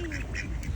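A duck by a pool house quacks a few times in quick nasal calls, close and fairly loud, over low background noise.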